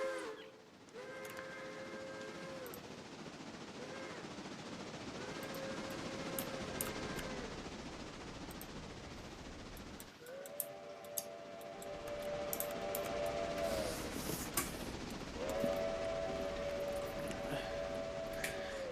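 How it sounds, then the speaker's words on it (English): A short train runs in the railroad video game Railroader, with rumbling wheels and rolling rail noise, then repeated long whistle or horn blasts sounding in two groups over the continuous movement. "Even if it is just a short train, it's nice to see it running."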